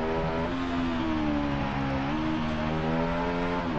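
Game-simulated engine of a 2001 Honda VTR SP1 V-twin sport motorcycle in a racing game, holding a steady droning whine with shifting harmonic pitch as revs rise and settle, loud and continuous with no talk.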